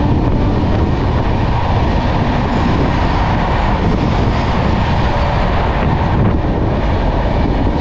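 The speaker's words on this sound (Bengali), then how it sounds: "সেই বেলদায় এখন ট্রেন এসে পৌঁছালো 12:06" The Dhauli Express, a passenger train from Shalimar to Puri, pulls into Belda station with a loud, continuous rumble from the wagons that fills the whole stretch.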